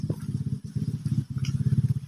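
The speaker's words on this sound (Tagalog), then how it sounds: "oh, bakit may motor?" A motorcycle engine runs nearby on a rural farm road, its steady low throbbing putter loud and continuous with a brief dip partway through.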